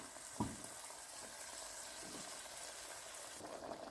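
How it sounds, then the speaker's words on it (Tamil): Faint, steady bubbling and sizzling of a thick mushroom masala simmering in a pan, with a couple of soft clinks from a spoon. "அது நல்லா கொதிச்சு வரட்டும்."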